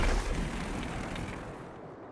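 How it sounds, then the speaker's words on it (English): A grenade blast in the video game Destiny 2 gives a loud, deep rumble that starts at full strength and slowly fades over about two seconds. "We're gonna throw our grenade right here."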